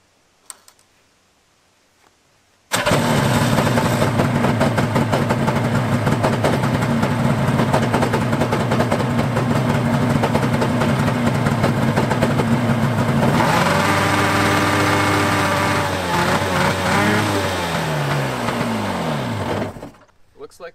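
A small two-stroke engine on a 1991 Yamaha VXR 650 jet ski sputters to life after a quiet start, then runs at a steady, buzzing idle for a long stretch before cutting off.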